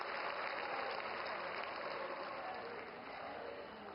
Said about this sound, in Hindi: एक बार जोरदार तालियों के साथ माननीय हमारे देश के यशस्वी प्रधानमंत्री जी का स्वागत और अभिनंदन करें